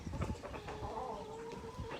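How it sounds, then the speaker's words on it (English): Egg layer chickens, including barred rock, buff, golden comet and leghorn hens, cluck softly in a chicken coop, with a drawn-out, rising and falling call in the middle against a quiet background. "This is our chicken coop. We've got this is our egg layer group right here."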